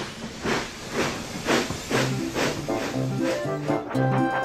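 Thomas the steam engine chuffs along with rhythmic bursts of hissing steam about every half second, close and clear, with a short musical toot near the end and no speech.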